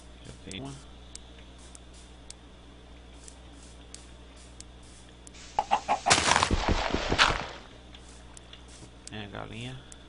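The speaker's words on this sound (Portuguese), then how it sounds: "É a galinha." A chicken in the video game Minecraft gives brief clucks at the start and near the end, with a loud burst of clattering game effects in the middle and talk through much of it.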